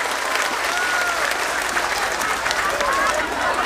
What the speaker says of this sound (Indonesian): Sekali lagi tepuk tangan untuk Banser Taiwan.